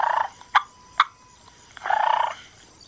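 A turkey hen's cluck-and-purr call played from a phone app: a few sharp clucks between two rolling purr passages, fairly close and clear with no talking.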